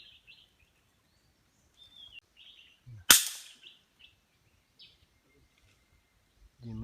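A single sharp air rifle shot cracks out close in the countryside while birds chirp faintly around it, with a few quiet rustles before and after.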